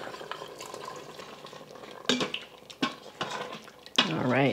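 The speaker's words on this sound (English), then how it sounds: "now I'm gonna stir in the slurry" A cornstarch slurry is stirred into a pot of Chinese noodle soup. A utensil clinks and scrapes against the pot amid liquid swishing, with a few louder knocks, and a voice briefly joins near the end.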